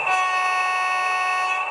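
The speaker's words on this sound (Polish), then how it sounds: "No, potrąbili mi." Sustained horn blast from a PKP SP42 diesel locomotive hauling two 120A Bonanza coaches, loud and steady for nearly two seconds with no talk.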